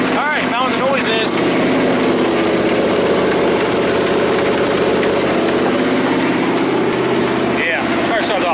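Engine of a 1979 Chevy square body truck running after a long sit, a loud steady idle rumble that stays constant throughout, with a voice talking over it.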